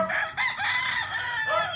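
A gamecock rooster crows close by, one full loud call with a clucking note at the end.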